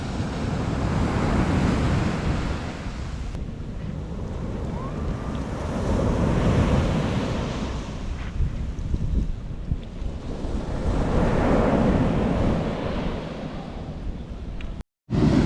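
Sea waves roll onto a southern European beach where sailboats come ashore, with a broad, surging wash of surf and gusting wind buffeting the microphone, swelling and easing over several seconds.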